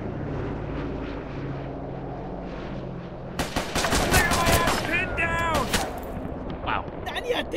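An enemy shooter fires in the video game Mud and Blood Pacific, sharp cracks and bursts that begin abruptly midway. Earlier there is a low battlefield rumble, and voices can be heard now and then.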